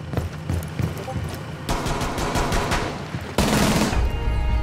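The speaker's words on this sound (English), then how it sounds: "I swear FMG is like the best gun in the game" An FMG submachine gun fires in rapid, dense bursts in an online shooter game, the rattling volleys swelling louder toward the end, mixed with game noise and a player's voice talking over it.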